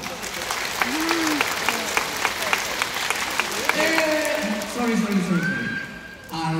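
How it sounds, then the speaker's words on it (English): An audience at a sea lion show in Singapore claps in a steady, scattered patter that runs throughout, while people talk and other voices and tonal calls sound over the clapping. "Now you all can try to clap as much as you want to distract him."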